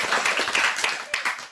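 Applause for a young child guest during a children's segment on All India Radio Hisar: a dense burst of clapping from several people, close and fairly steady, with voices mixed in.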